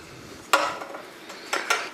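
A coiled exhaust spring on a KTM 350 EXC-F motorcycle is pulled off with a zip tie and T-handle, giving a few quiet metallic clinks and snaps close by.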